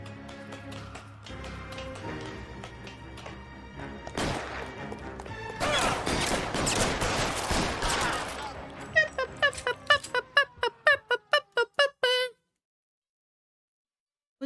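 Gunfire in L.A. Noire, a dense exchange of loud shots and impacts over a game backdrop, then a rapid series of evenly spaced single shots that ends abruptly in silence.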